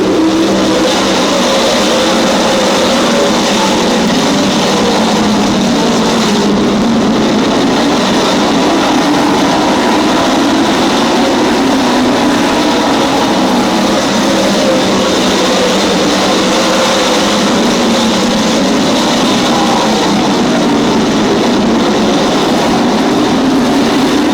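Race cars roar around the oval at Desoto Speedway during a night event, a loud, continuous wash of engine noise with a steady broadband rumble that persists throughout, no distinct passes standing out.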